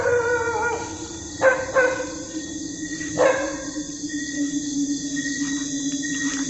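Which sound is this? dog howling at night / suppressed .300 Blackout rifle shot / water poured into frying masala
dog howling at night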